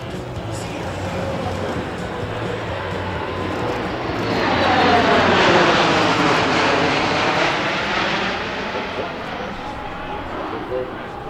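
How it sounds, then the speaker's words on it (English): Boeing C-17 Globemaster III transport jet passing show center at an airshow, a broad engine roar swelling from distant to loud overhead and slowly fading, with a commentator's voice heard over it. "I want you to listen how quiet it is when it passes Show Center now. From the left, the C-17."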